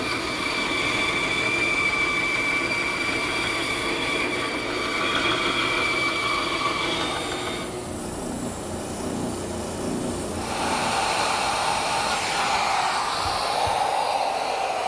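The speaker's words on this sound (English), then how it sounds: "using a small round-over bit, I've just run an edge around the top of the arm" A handheld router with a small round-over bit runs along the edge of a wooden chair arm, giving a loud, sustained high-pitched whine with a brief dip mid-pass before resuming at full volume.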